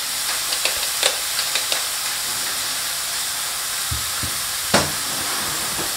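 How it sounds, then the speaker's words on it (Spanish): Ground beef frying in a pan for a meat stew, a steady loud sizzle and hiss with a few soft scraping stirs and one sharper clack near the end. "Aquí tengo mi carne ya, friéndola un poco"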